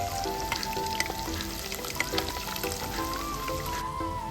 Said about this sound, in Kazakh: Сол майға енді жақсылап тұрып, сарғайтып, қызартыңқырап, қуырып алатын боламыз баклажандарымызды.